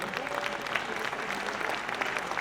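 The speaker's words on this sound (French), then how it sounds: "Et on peut les applaudir, ça va les motiver" Audience applause fills a business awards ceremony, the Trophées des Entreprises du Loiret 2022, with dense, steady clapping from a large crowd throughout.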